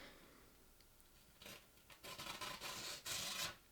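A Sanrenmu 7010LUC-SA folding pocket knife makes a straight-down cut, heard as faint, dry rasping and scraping that comes in short bursts after a quiet start.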